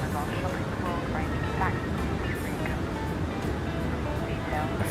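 Steady jet engine roar and cockpit hum of a Boeing 737-800 airliner in a flight simulator, a loud continuous drone with faint talk mixed underneath.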